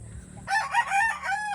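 A Boston Roundhead Sweater gamefowl rooster gives one loud, close crow, following a brief low rumble.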